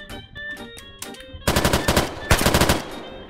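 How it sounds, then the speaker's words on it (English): Rapid automatic AK rifle fire in a video game, delivered in two loud close bursts of sharp rhythmic shots after a quieter stretch of clicks and handling sounds. "Now we bring up this AK."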